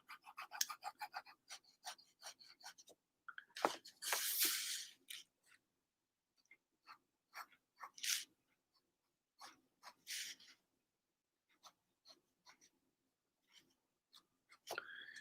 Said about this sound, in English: I'm being so quiet you can hear the pen scratch on the paper.